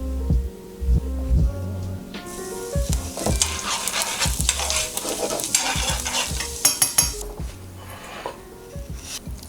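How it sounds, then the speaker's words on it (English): Garlic sizzling in hot oil in a pan as it's stirred, a loud continuous crackle with scraping utensil strokes, close up, after a few low thumps at the start. "We'll saute the garlic."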